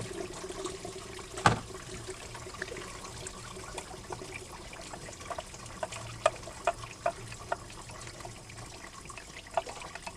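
Coolant drains from a 2016 Lexus NX200t engine during water pump removal, a faint close trickle and splatter of liquid with scattered drips and one sharper knock early on.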